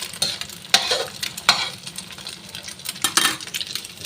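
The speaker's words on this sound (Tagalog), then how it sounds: "Bago ko halo-haloin ng ganito." Food is stirred and tossed in a pan for prawn mee, with sharp scraping strokes of a utensil against the metal over a soft sizzle. The strokes are close and irregular.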